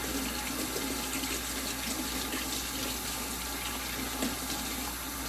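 Water running steadily from a tap while rice is washed, a soft continuous splashing hiss with faint clinks, no talk.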